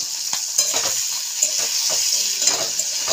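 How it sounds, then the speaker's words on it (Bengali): Koi fish frying lightly in a pan, a close steady sizzle with scattered crackles and soft scraping of stirring, continuous and alone without speech. "আমি এরকম করে হালকা করে মাছটা ভেজে নিচ্ছি"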